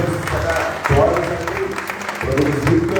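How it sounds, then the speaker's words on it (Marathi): A church congregation at a Sunday service claps loudly in sustained applause, with voices speaking over the clapping. "जोरात टाळ्या वाजवा."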